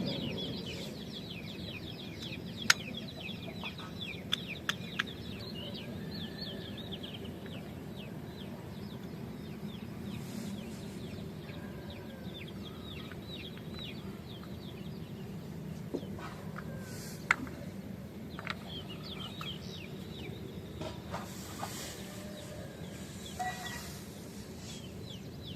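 Desi roosters in a village background, several crowing and clucking calls scattered over a low steady hum, with occasional sharp clicks and knocks nearby.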